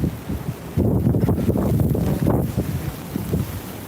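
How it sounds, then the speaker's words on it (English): Strong wind roars and buffets the microphone in heavy gusts on the Blackpool seafront during rain, loud and continuous with no talking. "Can't even stand over here because it's too windy."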